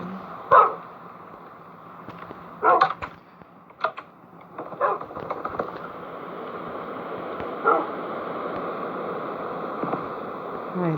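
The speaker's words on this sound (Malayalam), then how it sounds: "എവിടെ കിടക്കുന്ന പട്ടികളാണ്" Dogs bark in the Minecraft video game, several short, sharp yaps scattered irregularly over a faint steady hum, at moderate level.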